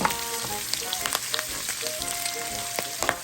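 Fresh garlic cloves frying in melted butter with half an onion in a pan, giving a steady close sizzle with small crackles and pops throughout.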